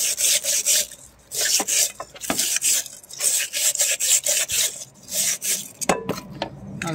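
Rusty steel reflector frames from a Bizon Zelmot combine, previously painted with primer, are sanded by hand in close, loud back-and-forth rasping strokes, with short pauses and a few clinks near the end.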